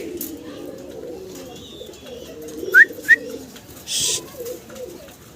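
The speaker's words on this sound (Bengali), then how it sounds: "সিঙ্গেল এক পিস চমৎকার কবুতর দেখাচ্ছি আপনাদেরকে" Fancy pigeons coo softly and close by in low, throaty bursts, with a couple of sharp chirps and a short rustling noise over quiet background.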